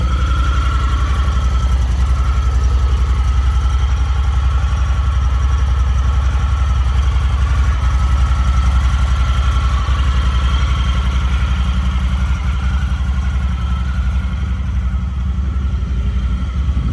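The engine of a 2021 Honda Talon special edition side-by-side idles steadily and loudly, a continuous low rumble that holds even throughout with no voices.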